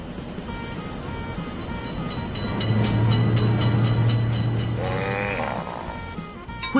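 In the mobile game Railroad Crossing, a train rolls past a crossing, its low rumble building steadily over game music and fading, with a short horn-like call near the end.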